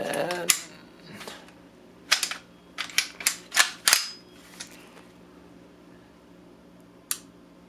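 An M&P 15-22 rifle gives a few sharp mechanical clicks from its trigger reset and break, close and crisp, scattered among quiet handling noise and spaced irregularly across the stretch.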